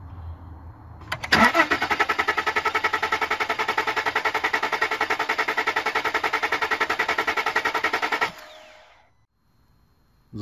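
A car engine cranks with a fast, steady rhythmic whirr of the starter lasting several seconds, loud and close, then cuts off into near silence without catching.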